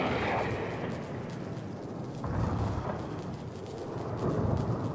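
Yellow lightning item effect from a Rocket League crate opening: a rolling, rumbling thunder-like roar with crackling texture that swells and fades in waves, fairly loud and steady throughout, with no talking.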